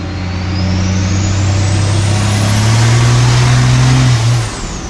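A dually pickup truck drives on a highway with a loud, steady engine drone that climbs in pitch as it accelerates hard, then eases off at the end.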